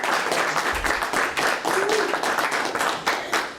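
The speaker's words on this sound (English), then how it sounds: "please give a long, large, loud Lions welcome for Gordon Smith" A Lions Club meeting audience claps in dense, steady applause to welcome the superintendent, lasting a few seconds with a faint voice underneath.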